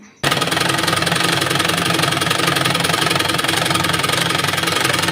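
Sewing machine stitching along folded fabric for a child's shirt, a steady, loud, continuous mechanical whir and rapid knocking running close up without pause.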